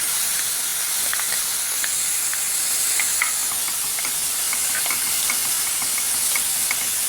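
Onion and garlic frying in oil in a pan for a Algerian osban sauce, a steady close sizzle and hiss with small crackling pops scattered throughout, no talking.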